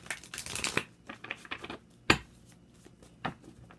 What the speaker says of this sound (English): Let's get 2 more shuffles for you guys.